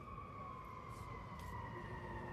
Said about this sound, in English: Whenever I hear sirens like that, I say, that's bad because somebody's in trouble.